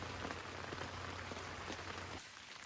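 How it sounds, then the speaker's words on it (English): Rain falls on a tent during car camping in Limberlost, a soft, dense patter heard close and quiet that fades out near the end. "Well, it's raining. It's raining all night."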